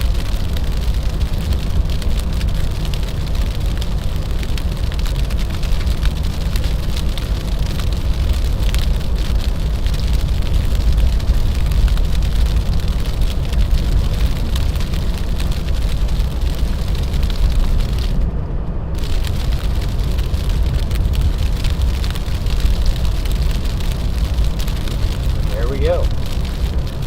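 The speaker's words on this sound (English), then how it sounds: "So it's been sleeting here for quite some time." Sleet falling steadily on a highway in a winter storm in New York, a constant dense hiss and patter with low rumbling beneath, continuous and fairly loud throughout.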